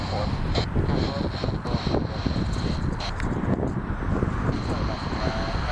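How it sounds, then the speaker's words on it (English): An American airliner taxiing at Portland airport at night, a steady close engine roar with wind noise on the microphone and occasional clicks and rustles. "They're both going to taxi at the same time."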